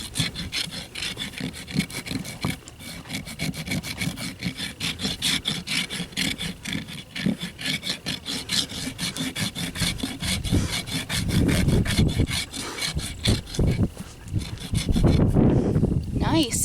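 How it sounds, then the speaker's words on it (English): A Radius Rasp 2 Pro files the bottom of a hoof in fast, steady, close back-and-forth strokes, growing heavier and louder toward the end, with occasional voices underneath. "here's the bottom of our foot after using the radius rasp"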